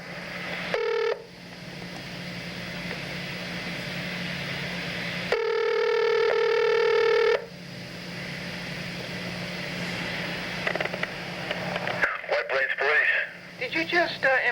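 Telephone tones sound while calling back the White Plains Police: short electronic beeps and a longer steady tone break through a line hum, followed by voices talking over the line.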